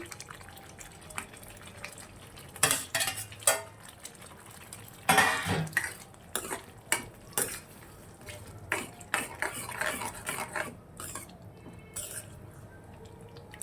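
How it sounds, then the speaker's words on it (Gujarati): Fried capsicum is tipped into a pan of kaju capsicum sabji and stirred, giving scattered clanks and scrapes of a spoon against metal with sizzling in between, close by and irregular. "એમાં આપણે જે ફ્રાય કરેલા જે કેપ્સિકમ હતા એડ કરી દઈશું"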